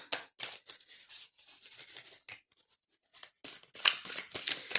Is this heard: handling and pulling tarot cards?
yes